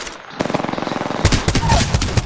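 Rapid automatic gunfire in the Apex Legends video game on PS4: a steady stream of evenly spaced shots, then heavier, louder, more irregular bursts close up.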